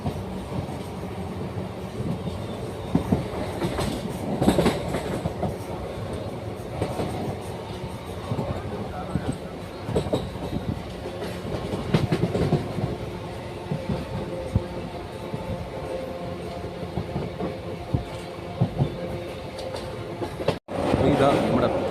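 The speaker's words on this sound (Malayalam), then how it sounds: "നമ്മൾ ഒട്ടടുത്തൂടെ ഒരു ട്രെയിൻ പോകുന്നുണ്ട്." A train rumbles past close by on the adjacent track, a steady loud roar with rhythmic wheel clatter heard from aboard another train, ending in a brief sharp bang.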